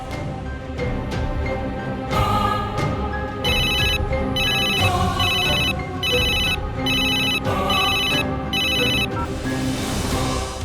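A phone rings unanswered in a home, its repeating ringtone bursts sounding loud and close in a steady rhythm over a melodic backing tune, with no voices.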